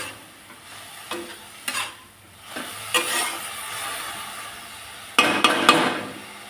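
Vegetables seasoned with salt and turmeric stir-fried gently in a pan, a soft sizzle beneath irregular scrapes of a spatula, with a louder burst of stirring and clatter near the end.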